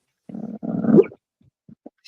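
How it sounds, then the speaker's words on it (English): A sleeping dog snores and grumbles through a dream, with two drawn-out rumbling breaths close by, then quiet faint snuffles and short whimpers. "He's snoring and having a great dream."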